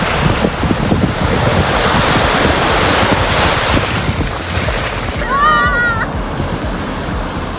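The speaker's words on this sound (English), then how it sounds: "Yes, wave is coming to hit us actually." Ocean surf breaks and rushes on Varkala beach in India, a loud continuous wash of waves blended with heavy wind buffeting on the microphone, close by, with a brief burst of a voice or whistle near the end.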